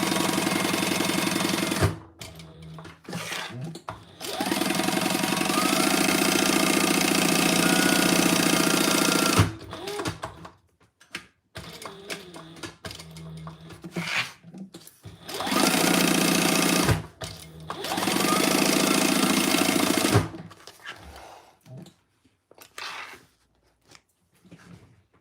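Sewing machine basting a crossbody bag, running in several long bursts of rapid mechanical stitching separated by pauses with handling noises and quiet gaps.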